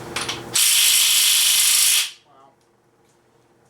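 A loud impact wrench with a 13/16 socket hammers on engine bolts of a 396 engine for about a second and a half, then stops abruptly, followed by brief faint talk.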